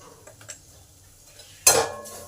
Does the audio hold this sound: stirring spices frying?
yes